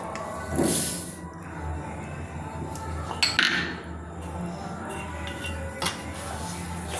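Palm pulp being mixed with sugar in a bowl, with scraping and clinking of a utensil against the bowl in uneven strokes, fairly close.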